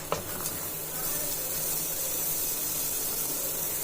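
Onions sauté in butter over a medium flame, a soft continuous sizzle with a brief clink at the start, steady and fairly quiet throughout.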